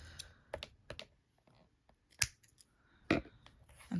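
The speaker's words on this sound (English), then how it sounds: "So now you're just gonna cut off the ends" Scissors snipping the loose string ends off a finished wall stitch (superbrick) lanyard, a few sharp, close snips spaced apart in a quiet room.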